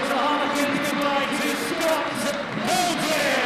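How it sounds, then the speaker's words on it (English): At a Harlequins rugby farewell for departing players, a big stadium crowd cheers in a sustained roar with scattered whoops, loud and continuous beneath a commentator's voice. "Listen to that cheer as well."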